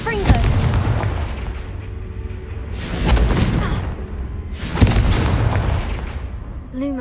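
The fiery Confringo blast spell in the Hogwarts Legacy video game: three loud, booming explosions, each spaced a couple of seconds apart, over continuous rumbling game sound.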